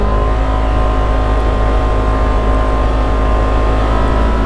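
A 2024 Polaris RZR XP 1000 Ultimate off-road vehicle drones loud and steady at high speed along a trail, a constant close engine roar that never lets up.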